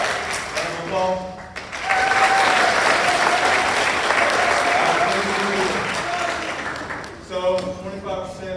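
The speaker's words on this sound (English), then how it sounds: "Round of applause." A high school ROTC awards ceremony audience breaks into a loud, sustained round of applause lasting several seconds, with a speaker talking just before and after it.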